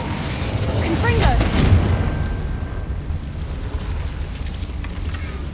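A Confringo fire spell in Hogwarts Legacy bursts in a loud, booming blast early on, then trails off into a rumbling, crackling tail over steady game ambience.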